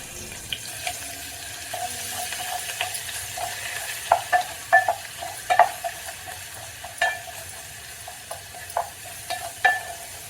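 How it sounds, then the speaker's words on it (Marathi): Green chili and spice masala roasting in hot oil, a low sizzle under repeated metallic clinks and scrapes of a spoon stirring the pan, close by with no voices. "जो आपण मसाला तयार करून घेतलेला आहे तो आपण टाकून तेलामध्ये भाजून घ्यायचं आहे"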